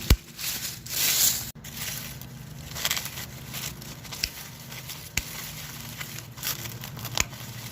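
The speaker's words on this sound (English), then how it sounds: "I'm just gonna cut the stems right" Peony stems being cut close to the ground in an autumn garden, close crunchy snips and rustling of dry foliage with a few sharp clicks spread throughout, no talking.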